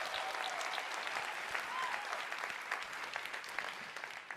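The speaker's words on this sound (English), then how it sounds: "Yeah, you can clap." A convention audience claps at a global company convention, a lively crowd of hands with crisp individual claps standing out from the steady wash, fading a little at the close.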